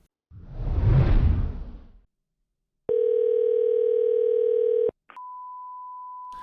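A whoosh followed by a steady telephone dial tone of about two seconds, then a beep and a thin continuous tone as a call is placed to a coin shop.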